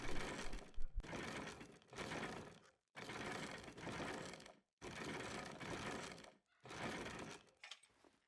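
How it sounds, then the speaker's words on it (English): A cylinder puzzle mechanism in the Crimson Desert video game is lowered repeatedly, producing a series of loud, roughly one-second grinding bursts separated by short silent gaps, with no talk. "Lower the first cylinder 5 times."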